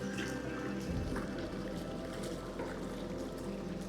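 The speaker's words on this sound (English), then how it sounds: "I'm going to run the jets." Hot tub jets run steadily, a loud broadband churn of bubbling, rushing water that starts abruptly about a second in and holds constant with no voices.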